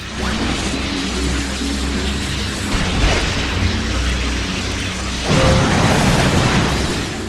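Explosions from the video game Ratchet and Clank Future: A Crack in Time boom through dense game audio, with a heavy burst near three seconds and a louder, sustained blast from about five seconds on.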